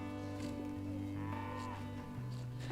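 Aberdeen Angus beef cattle on a farm near Manchester in Britain: several long, deep moos overlap and follow one another, fairly close, over a quiet pasture background with no speech.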